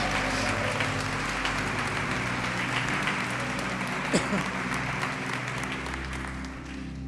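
A church congregation applauds in praise during a sermon, sustained clapping over a low hum of music or organ, with a brief vocal sound rising midway.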